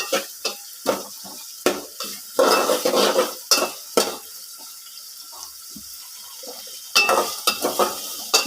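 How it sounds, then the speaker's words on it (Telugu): Onions sizzle in a pan for a tamarind-based curry while a metal spoon stirs and scrapes the vessel. Clattering strokes come in irregular bursts over a steady, close frying hiss. "ఇలా వేగుతుండగా చూసారు కదా, దీంట్లో మనం వేసిన ఉల్లిపాయలు కూడా వేగలేదు మనకి తెలుస్తుంది"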